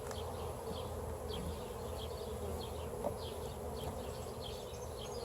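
Honeybees hum and buzz from an open hive during an inspection, a steady dense drone with individual bees zipping close past in quick passes, fairly faint and with no talking.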